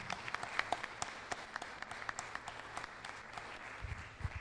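Audience applause at the close of a public hearing session, a fairly faint spread of scattered hand claps from a small crowd, steady and irregular over several seconds, heard at a distance.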